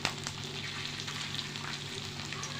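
Seekh kebabs frying in hot oil on a tawa, a steady close sizzle and crackle running evenly throughout with no talking.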